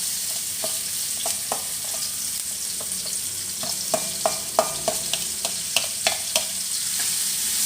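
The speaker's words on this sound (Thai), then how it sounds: "ผัดพริกกระเทียมให้หอมจ้าพี่น้อง" Chilli and garlic stir-fry in hot oil for Thai basil minced pork, a steady sizzle with sharp spatula scrapes and clacks that grow busier and louder toward the end, no voices.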